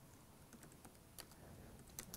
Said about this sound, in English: Okay, I'm gonna write, "Sorry, Paul,